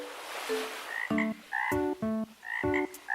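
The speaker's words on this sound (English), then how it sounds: "Now we can almost hear all the frogs cricketing in the distance." Frogs croak in a series of loud, harmonic calls, about five distinct croaks in an uneven rhythm with short gaps between them, each one clear and fairly close, with no voices.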